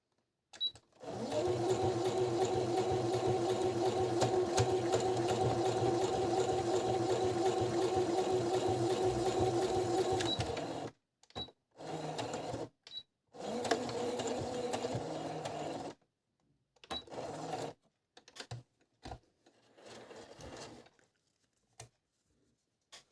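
A Brother RS260 sewing machine stitches fabric in a steady, loud mechanical whir for about ten seconds, then runs in several short bursts separated by silences.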